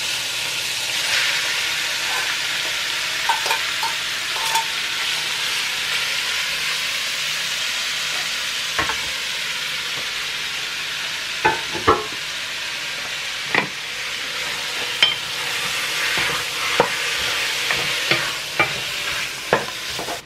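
Beef steak for bistec ranchero sizzling steadily in hot oil in a pan, a loud continuous frying hiss with occasional sharp pops and crackles throughout, no voices.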